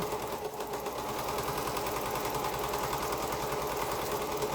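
A sewing machine stitches quilt fabric at a steady fast pace, its rapid mechanical chatter running continuously and fairly close, with no one talking.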